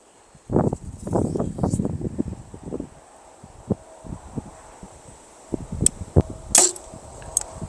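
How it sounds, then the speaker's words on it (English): Outdoors in gusty wind, rustling and handling noises build before a sharp, sudden twang and snap of an arrow released from a bow fitted with a Trophy Ridge React sight. "Let's go shoot one more arrow."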